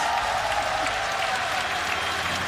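A crowd applauds steadily through a Rainbow Six Siege esports announcement, a dense, continuous wash of clapping that stays even and loud throughout.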